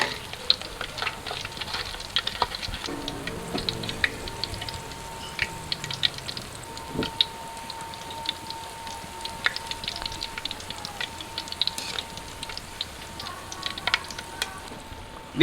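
Battered onion fritters deep-frying in a wok of oil, a continuous fine crackling sizzle with scattered pops and a faint spatula scrape, steady and close with no talking.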